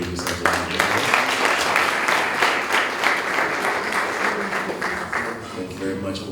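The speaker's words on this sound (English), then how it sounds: "Please can you give yourself a round of applause?" Full-room applause from attendees at an IT program certificate handout ceremony, dense sustained clapping with a few louder bursts, lasting several seconds while a voice speaks over it.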